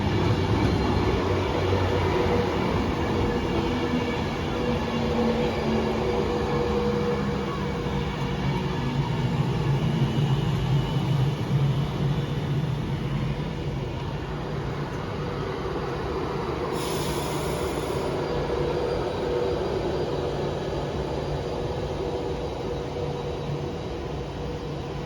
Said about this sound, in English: arriving now is going to be an Avanti West Coast 390 going from London Euston to Edinburgh.